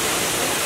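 Alabama waterfall roaring as a dense, even rush of falling water, loud and continuous, with no voices.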